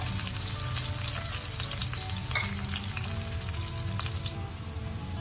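Finely chopped medium onion frying in oil in a home kitchen, a steady, dense sizzle that runs loud and continuous throughout, with occasional stirring scrapes and no talking.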